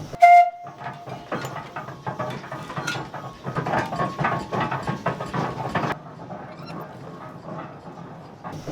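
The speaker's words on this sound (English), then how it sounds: "what we will be doing is a demonstration of how this machine actually moved logs through the forest" A steam donkey logging engine at a forest logging demonstration runs with a short whistle toot at the start, then clanking, rattling mechanical bursts and hissing steam, loud and nearby, with no talking.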